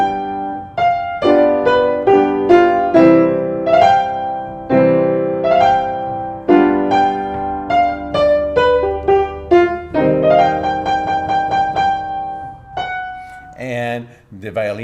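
Violin from Beethoven's "Spring" Sonata, playing a march-like passage of clearly articulated, separated notes with the piano, close and fairly loud, with a brief shuffle or noise at the very end.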